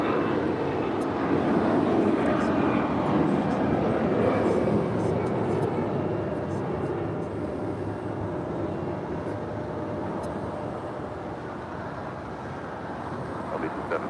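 An Allegiant Air Airbus A319 airliner taking off at LAX, a broad sustained jet roar heard from a distance, steady and then easing slightly toward the end.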